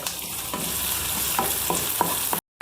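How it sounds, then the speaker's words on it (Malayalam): Curry leaves and chopped shallots frying in oil in a pan for a bitter gourd dish, a loud steady sizzle broken by several sharp stirring scrapes before a sudden cut to silence. "കറിവേപ്പില ഇട്ട് കൊടുക്കാം ഒപ്പം ഒരു എട്ട് പത്ത് ഉള്ളി അരിഞ്ഞതാണ് അതിട്ട് കൊടുക്കാം ഇതൊന്ന് വാടട്ടെ"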